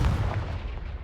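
A Confringo blast spell in Hogwarts Legacy, a single loud, deep boom already underway that rumbles and decays over a second.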